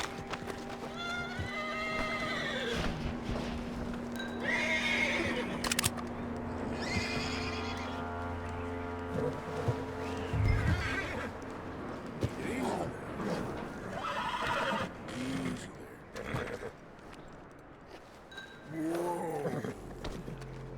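A horse in the Red Dead Redemption 2 western game, snowy setting, whinnies and snorts several times amid clip-clopping hooves, fairly close, under frequent male conversation.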